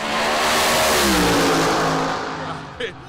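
A nitro funny car engine at a drag strip roars loudly and close, revving hard and then fading, with a brief sharp sound near the end.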